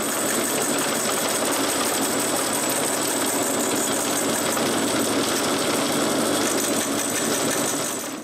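A power tool cutting a slot in a piece of wood in a home workshop, a steady, harsh buzzing cut running continuously at close range with no talking.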